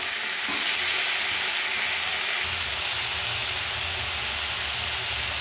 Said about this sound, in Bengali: এবার ভালো করে ভেজে নিচ্ছি।